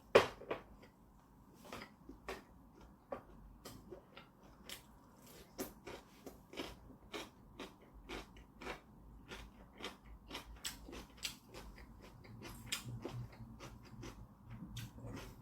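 Marinated galbi short ribs chewed and gnawed off the bone up close, a steady run of soft wet bites and crunchy clicks spaced irregularly over a low room hum, with no talking.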